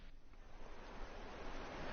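River water flowing through the Shennongjia forest, a steady rushing wash that holds at moderate loudness throughout without breaks, and no one speaks over it.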